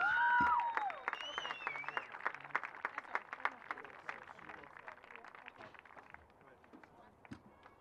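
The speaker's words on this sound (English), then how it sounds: "Let's give all these individuals and the entire Young Harris College staff a round of applause." Crowd applause for the college staff at a women's lacrosse tournament final, a dense patter of clapping that swells and then gradually thins out over several seconds, heard from a moderate distance.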